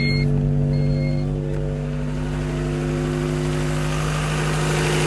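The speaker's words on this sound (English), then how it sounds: "Hoping you can hear me over the sound of the engine" A 1991 Honda Accord engine runs at a steady idle just after a valve cover gasket replacement, a close, even mechanical drone with a faint high whine early on and no talk over it.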